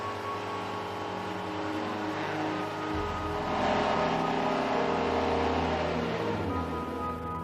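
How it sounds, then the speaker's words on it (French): A diesel car engine holds a raised rev near 4000 rpm during forced DPF regeneration with post-injection, a steady droning hum that deepens and swells slightly midway, heard up close with no voices. "Il monte ensuite à 4000 tours minute, avec post-injection pendant le temps nécessaire à la régénération forcée."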